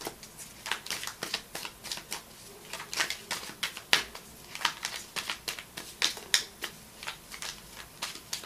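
Tarot cards are shuffled by hand in a series of quick, crisp riffling bursts, each a short papery flutter repeating in an irregular rhythm, close and fairly quiet with no talking.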